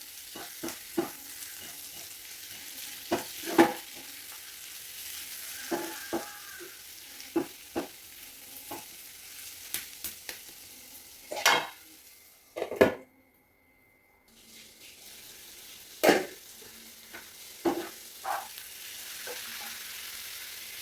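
Onions and spice powders fry softly in a pan, a low sizzle broken by repeated sharp clinks and scrapes of a spoon stirring against the metal, with a brief quiet pause partway through; no talking.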